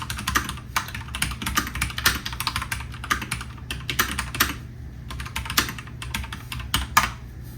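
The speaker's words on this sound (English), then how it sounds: "type more accurately and get more work done" Steady, quick typing on a computer keyboard by someone wearing a supportive glove for a radial nerve injury, with dense, irregular key clicks and taps continuing throughout at close range.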